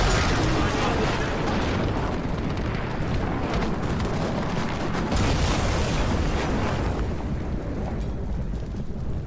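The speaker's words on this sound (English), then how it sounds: "He pierced it and blew up the ammo rack." In War Thunder, a tank shell penetrates a T9OM and sets off its ammo rack, a loud, dense roar of blast and rumble that holds steady for about nine seconds before easing slightly near the end.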